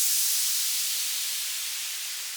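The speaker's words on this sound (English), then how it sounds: "Then I used these white noise downlifters," A white noise downlifter for a progressive house track sweeps down as a bright, steady hiss that slowly fades over about two and a half seconds, heard alone.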